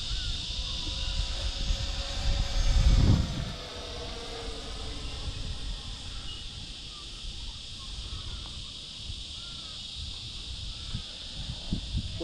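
An FMS green 70mm EDF Yak model jet flies at full afterburner throttle, a steady high whine and rushing roar that swells loudest as it passes near around three seconds, then holds on more distantly.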